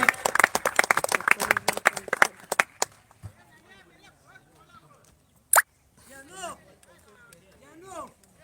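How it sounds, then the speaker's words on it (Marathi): A crowd at a cricket match claps in a quick burst for a batting performance, loud and dense for about three seconds, then fades out as a commentator speaks over quiet ground noise. "जोरदार टाळ्या झाल्या पाहिजेत वेदांत मिराशीच्या बॅटिंग परफॉर्मन्स साठी"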